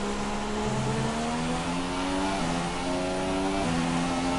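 McLaren Honda Formula One car in the F1 2017 racing game, its engine revving loud and high with rising pitch sweeps as it shifts through gears, constant and close with no talk.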